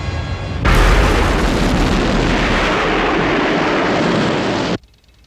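Huge explosion in the Thunderbirds puppet series, a sudden loud roaring blast that sustains as a dense rumble for about four seconds before cutting off sharply.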